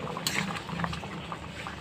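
Dal cooked with Malabar spinach bubbles steadily in a pot, a close, continuous simmering hiss and patter with no voices.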